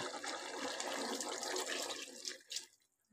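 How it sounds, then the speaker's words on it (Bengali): Water pours steadily into a cooking pan on a home stove, a continuous splashing gush that tapers off and stops near the end, with a brief final splash. "একটু বেশি করে জল দিচ্ছি"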